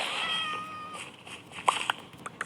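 A cat meows close by with a drawn-out, wavering cry, then a few short sharp sounds follow as the call fades out.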